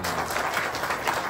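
Audience applause fills a hall at a Ravindra Bharati preview screening of the film Sharapanjaram, a dense, steady wash of many hands clapping close by with no break.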